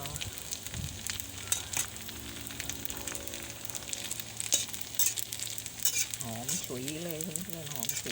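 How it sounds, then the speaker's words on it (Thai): Squid tentacles frying in a pan give a steady broadband sizzle with crackling bursts throughout, joined by occasional stirring clatter and some tonal background sound toward the end. "ทอดหมึก ทอดหนวดหมึก ใส่จะทอด"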